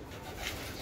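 Pigeons coo faintly at a loft during a pigeon race in a brief, quiet moment.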